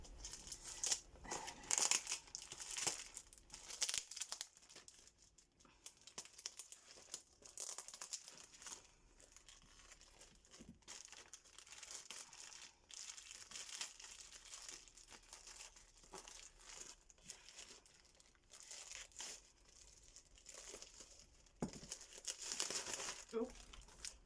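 Strong packing tape tears and crinkles open on a Pokemon card package, rustling on and off for the whole stretch, up close, with someone talking over much of it.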